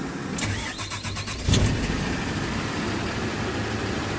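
A yard goat terminal truck's diesel engine cranks with a rapid rhythmic starter churn for about a second, catches with a loud burst, then settles into a steady low rumbling idle, close and alone with no talking.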